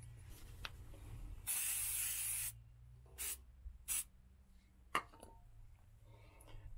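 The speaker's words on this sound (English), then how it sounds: "I'm going to spray that on the rams of each of the four jacks." A silicone spray can hisses in one longer burst followed by a few short sprays onto RV leveling jack rams, close by in an otherwise quiet setting.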